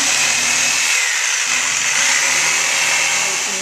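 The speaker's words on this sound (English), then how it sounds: "start refining everything now with reciprocating saw by cutting corners off and rounding things up" A reciprocating saw cuts and rounds the corners of a carved buffalo head form, giving a loud, continuous buzzing whine throughout, close up and alone.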